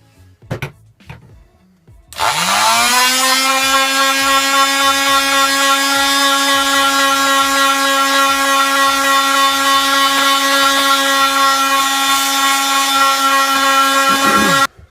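Aluminium wiper arm from an 8th-generation Honda Civic being sanded down with coarse 60-grit paper, heard as a loud, steady droning whine that runs unbroken for about twelve seconds after a few short scrapes.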